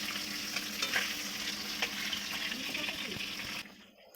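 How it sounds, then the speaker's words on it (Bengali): Fish sizzles as it fries in a small home kitchen, a steady close hiss with stirring scrapes that cuts off abruptly near the end. "দেখো কী রান্না হচ্ছে মাছ মাছ ভাজা"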